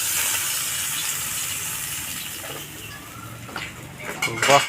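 Fried fish is lifted out of a hot pan with a utensil: a soft hiss of oil fades, then sharp metallic clinks and scrapes rise near the end.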